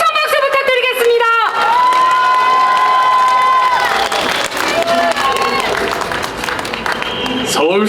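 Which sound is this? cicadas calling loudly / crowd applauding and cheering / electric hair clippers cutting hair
crowd applauding and cheering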